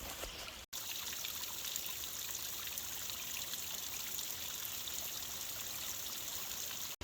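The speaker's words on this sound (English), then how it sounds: "A little bit of water flowing here from the river in the rain." A small stream fed by rain trickles and burbles beside a trail in Devil's Den State Park, making a steady, soft, continuous rush with only a momentary break.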